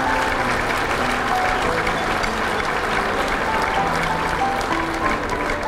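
Audience applause fills a gala ballroom, a steady wash of clapping sustained evenly for several seconds without breaks, loud and full throughout.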